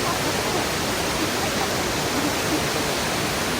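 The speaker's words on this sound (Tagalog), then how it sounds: "Ayun na ang falls!" Inglis Falls on the Bruce Peninsula pours in a steady, dense roar of falling water, loud and close, filling the whole moment without pause or voices.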